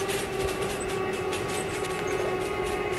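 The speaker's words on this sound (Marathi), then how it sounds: "इकडे अजून एक स्लो लोकल ट्रेन क्रॉस करते माझ्या लेफ्ट हँड साईडला." A slow local train rolls past in the RG Train Tech Demo rail simulator, a steady rumble with a sustained tonal hum and faint wheel clatter, continuous and fairly close.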